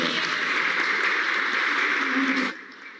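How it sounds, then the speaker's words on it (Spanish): Applause for the speakers at a community gathering on resistance to extractivism: a dense, moderately loud patter of clapping that fades quickly near the end. "más aplausos"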